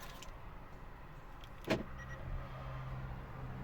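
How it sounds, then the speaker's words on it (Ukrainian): Volvo S90 sedan locking up, a sharp click of the locks followed by the quiet electric hum of the side mirrors folding in, close and soft in a hushed setting. "Ось так все потухло, зеркала склались."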